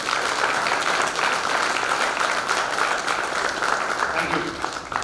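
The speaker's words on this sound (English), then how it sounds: "I request everyone to carry big vote of thanks with a round of applause" A conference audience gives a round of applause for the speaker, steady dense clapping that continues evenly for several seconds, close and loud.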